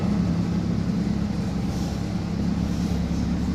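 Steady low rumble of a city bus interior while it drives through heavy rain, a constant engine and road drone close around the listener with no talking.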